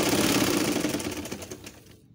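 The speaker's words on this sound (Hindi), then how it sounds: "और अब हम इसको इन जोड़ों के ऊपर सिलाई करेंगे।" Sewing machine running a fast, steady rattle of stitches along the joined seams of a patchwork table runner, close and fairly loud, then slowing and stopping at the end.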